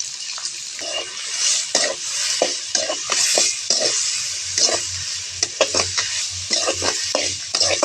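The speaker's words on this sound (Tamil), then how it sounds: "வெங்காயம் தக்காளி எல்லாம் நல்லா வதங்கிட்டுருக்கு இப்போ நம்ம சுருவில் தேங்காய் சேர்த்துக்கலாம்" Onion, tomato and grated coconut sauté together in a pan for fish chutney, with busy, irregular scraping and clinking of a spoon stirring over a continuous close sizzle.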